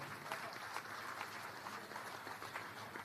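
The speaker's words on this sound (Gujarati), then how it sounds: "એ ચંદ્રપ્રકાશ સ્વામીને પણ હાથ ઊંચા કરીને તાળીઓથી વધાવવા પડે" A crowd at a temple gathering applauds for Chandraprakash Swami, a dense, steady, fairly faint clapping that continues without pause.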